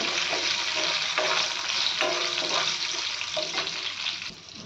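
Slit green chillies roast in hot oil, a steady loud sizzle broken by stirring scrapes and sharp crackles, with no voices.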